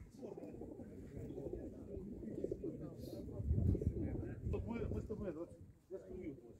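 Pigeons coo continuously at a busy outdoor bird market where pigeons are sold, the soft low cooing layered under steady crowd chatter and nearby talking.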